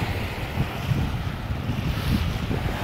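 Fast-flowing flood water at Mangla dam in Mirpur, Azad Kashmir, makes a loud, steady broadband rush with heavy low rumble and wind buffeting the microphone, continuous and close with no voices.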